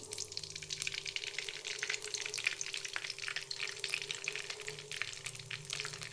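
Oil heating in a pan for rice semolina masala upma, giving a steady, close sizzling hiss throughout with faint clinks, no voices.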